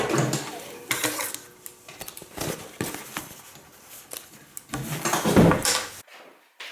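A sewing machine back stitches fabric in short, uneven bursts of mechanical whirring and clicking, close by, with brief pauses and handling knocks between runs.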